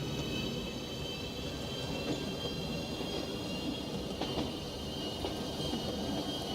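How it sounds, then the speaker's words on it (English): Adelaide-class passenger train running in Transport Fever 2, a steady rumbling rail noise with wheel hum and faint squeals, continuous and fairly even throughout. "I think it was classed as an Adelaide train"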